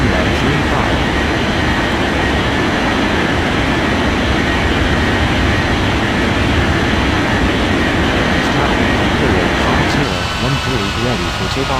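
Airliner taking off in an air traffic control game, with a continuous loud engine roar and rushing noise that holds steady throughout and shifts slightly near the end, with voices underneath.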